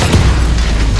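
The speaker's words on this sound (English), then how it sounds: "The massive guns fire their third salvo." Massive naval guns on a pocket battleship fire a salvo, one heavy booming blast with a loud, dense rumble filling the whole clip at close range.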